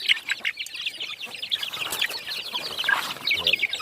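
A brooding hen on a Thai farm, raising a single duckling she hatched, clucks repeatedly alongside chirping chicks, with steady close-up clucks and peeps overlapping throughout.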